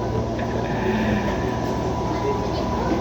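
An Indonesian KRL commuter train, a former Tokyu 8500, JR 203 or TM 7000 series unit, running on its last trip: a steady, loud rumble of wheels and motors heard from inside the car, with voices murmuring underneath.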